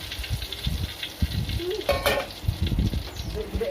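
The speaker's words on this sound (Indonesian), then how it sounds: "makanya saya goreng sekaligus dua gitu, dua potong" Two salted tilapia pieces fry in a home kitchen pan with a steady close sizzle, broken by a few stirring and utensil scrapes, a short burst of metallic clatter near the middle.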